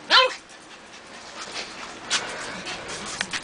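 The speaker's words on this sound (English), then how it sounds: "That's my little dog." A small dog gives a high yelping whimper at the start, then pants softly and shuffles nearby, with a few faint whines scattered through the quiet that follows.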